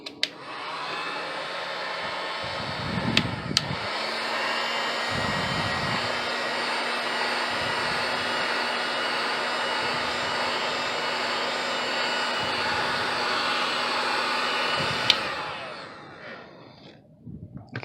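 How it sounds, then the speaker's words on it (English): A heat gun blows over foam pieces for a cosplay utility belt, a constant loud whirring fan-and-heater roar that switches on, runs steadily with a few clicks, then winds down near the end. "what the heat gun is doing is it's causing the outside of the foam to shrink and contract"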